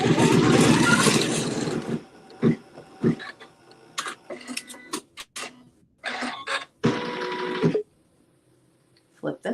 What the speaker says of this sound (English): We'll stitch that seam.